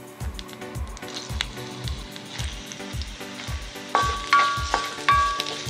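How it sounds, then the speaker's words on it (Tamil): Onions sautéing in hot ghee in a pan, a steady sizzle with a repeating scraping, stirring rhythm of a spatula, and a few brighter metallic clinks near the end, no talking. "நெய்யில் வெங்காயத்தை வதக்கிக்கலாம்."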